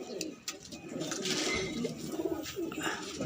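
Hyderabadi pigeons coo softly and repeatedly at close range, with low, rolling calls and a few faint chirps over light background noise.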